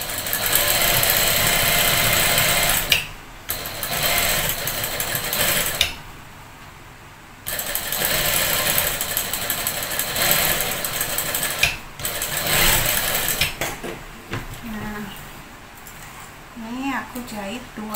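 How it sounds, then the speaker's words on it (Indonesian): A sewing machine stitches a skirt pocket in several close, buzzing runs of a few seconds each, separated by brief pauses, with someone talking over and between them. "Aku jahit 2 kali ya teman-teman"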